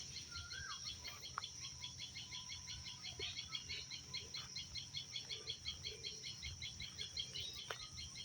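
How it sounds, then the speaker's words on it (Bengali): Birds chirp in a dragon fruit garden, a steady, rapid run of small repeated calls at moderate distance throughout, over a soft low outdoor rumble with a few brief sharper notes. "বাগানের কিচিরমিচির পাখির ডাক"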